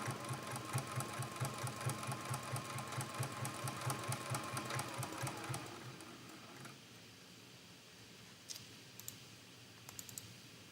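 A sewing machine stitches a quilt block with a fast, steady mechanical rhythm for several seconds, then stops. A few faint clicks follow in the quiet.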